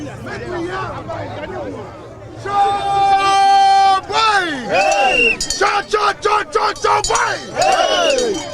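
Protesters marching to Jubilee House with roads blocked, a crowd whose babble of many voices swells into loud, sustained shouting and chanting with overlapping cries nearby.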